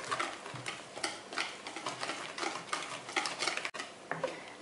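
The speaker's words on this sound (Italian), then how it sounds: "aggiungo l'olio di semi, il latte, continuo a mescolare." A spoon or whisk scrapes and clicks against a bowl while carrot and coconut cake batter with seed oil and milk is stirred, giving quiet, irregular taps and swishes with no talk.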